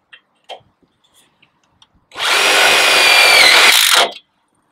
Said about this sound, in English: I want to go ahead and put two tech screws just side by side to give it a little extra hold